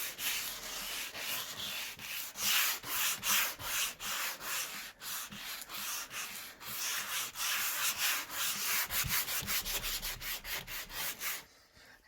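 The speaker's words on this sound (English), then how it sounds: "you can sand as much as you want, right back to the bare" Hand sanding of a wooden furniture piece, rapid rhythmic back-and-forth rasping strokes, close and loud, continuing steadily before stopping at the end.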